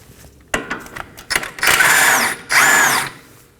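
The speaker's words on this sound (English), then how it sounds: "We're going to remove this nut using a 17mm socket." A power tool with a 17mm socket spins off the nut of a sway bar end link on a 2020s Toyota Corolla: short stuttering bursts, then two sustained whirring runs whose pitch slides, close and loud, with no talking.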